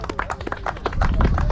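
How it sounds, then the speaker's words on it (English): Applause at an award ceremony: a fairly close, loud patter of individual claps in quick uneven rhythm, thickening into denser clapping with a low rumble toward the end. "A round of applause, please."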